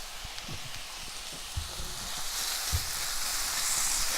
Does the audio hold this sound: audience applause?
no